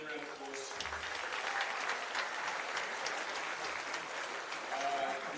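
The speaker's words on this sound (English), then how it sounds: "Give him a round of applause." A round of applause at a junior football club season presentation, a modest crowd clapping continuously at a moderate distance, with some voices underneath.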